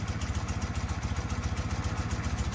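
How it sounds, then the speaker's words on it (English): A twin-carburetor motorcycle engine, revived after sitting over 20 years, idles steadily right after its idle screw is adjusted: an even, close, rhythmic low putter with light mechanical clatter, running alone without talk. "And that's a good idle right there."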